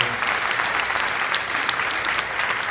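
Church congregation gives a loud, sustained round of applause to the Lord during a Catholic service led by a priest, dense steady clapping filling the room with a few voices mixed in.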